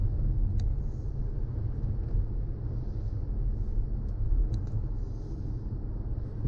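A car cruises along a road at about 50, heard from inside as a steady low rumble of engine and tyre noise with a faint hiss, constant and unbroken.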